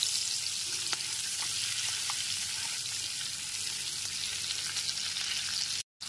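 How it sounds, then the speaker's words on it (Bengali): Duck eggs, rubbed with salt, fry in a pan over a medium gas flame, giving a steady, close, even sizzle with a few faint clicks and a brief dropout near the end; nobody speaks. "সমস্ত দেশি হাঁসের ডিমগুলো দিয়ে দেওয়ার পর গ্যাসের ফ্লেমটা মিডিয়ামে রেখে বেশ কিছুক্ষণ সময় ধরে ডিমগুলো খুব ভালো করে লাল করে ভেজে নিতে হবে।"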